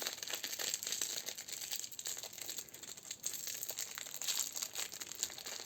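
A small AliExpress parcel being opened by hand, with continuous close crinkling and rustling of plastic packaging and a few sharper tearing crunches, steady throughout and with no talking.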